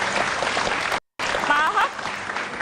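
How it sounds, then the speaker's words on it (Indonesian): An audience at an Indonesian political talk event breaks into applause, a dense crowd clapping that briefly cuts out before resuming with voices mixed in. "Boleh tepuk tangan Dahlan Iskan."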